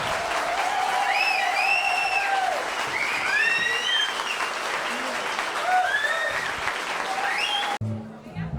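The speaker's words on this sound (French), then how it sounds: "je pense qu'on peut applaudir toutes les équipes qui se sont défendues" Loud, sustained clapping from a concert audience, with high cheering voices and whistle-like calls rising above it, cutting off abruptly near the end.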